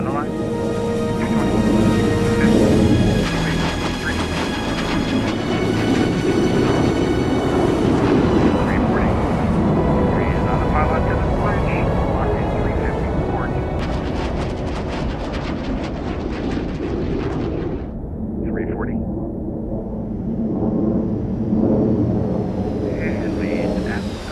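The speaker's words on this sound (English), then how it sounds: "The L-39 lacks the power of larger fighter aircraft and cannot simply push the power into afterburner for the rejoin." An L-39 jet in the DCS World flight game roars steadily and loudly throughout, with a sustained engine whine shifting in pitch as it flies, under a voice talking over it.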